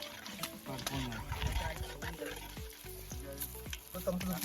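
Garlic and ginger paste frying in a pan at an outdoor cooking spot, a steady close sizzle with some stirring, while people talk over it.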